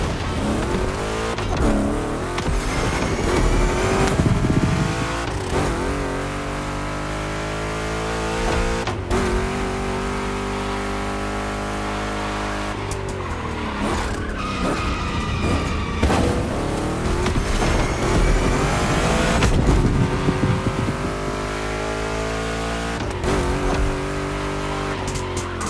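Two Chevrolet big-block cars race in The Crew Motorfest, engines roaring and revving loud throughout, rising and falling through gear changes, with tire squeal and skids in the turns.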